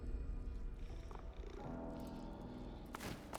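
A cat purrs in the video game Divinity: Original Sin 2, a low continuous rumbling purr running throughout, close and steady, with some faint game sounds near the end.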